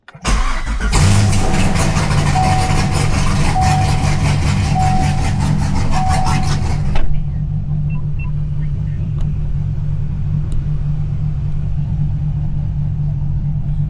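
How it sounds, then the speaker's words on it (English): A car engine fitted with new ignition wires cranks and catches, revving loudly and close for several seconds, then drops to a steady low idle rumble. "So here's the first start with the new wires."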